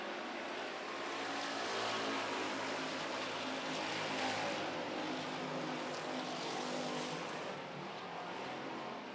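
Street stock race cars roar around an oval track during a heat race, a dense, steady engine drone of several cars at once that swells and fades slightly as they pass, with no talk over it.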